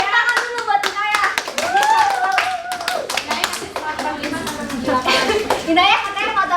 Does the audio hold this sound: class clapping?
yes